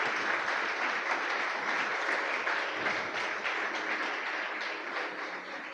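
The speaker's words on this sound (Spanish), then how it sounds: "Fuerte ese aplauso al Señor." A church congregation applauds in a steady, dense wash of clapping that fills the room for several seconds and slowly eases off toward the end, with no voices over it.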